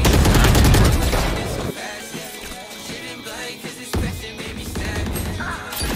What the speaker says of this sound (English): They're shooting you.